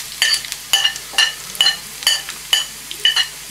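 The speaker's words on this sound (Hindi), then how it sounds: "पहले हमने इसमें जो है अपना लहसुन डालना है, ये हम तड़का इसका बना रहे हैं।" Garlic and cumin seeds sizzle in hot oil while tempering for dal tadka, with a steady frying hiss under sharp, regular metallic clinks of a spoon stirring in the pan, close up and with no speech.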